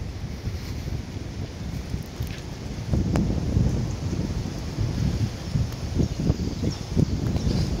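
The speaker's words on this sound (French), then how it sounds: "Le vent souffle encore un peu." Wind blows through a forest of conifers on a morel-hunting outing, a steady low rumbling whoosh with gusts that swell in the second half, loud and close with no talking.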